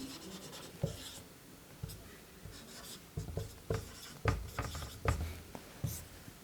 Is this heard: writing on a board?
yes